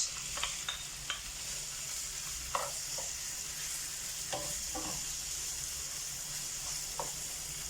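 Chicken pieces with garlic frying in olive oil in a skillet, a steady sizzle with scattered crackles and a few stirring knocks, moderately close and without speech.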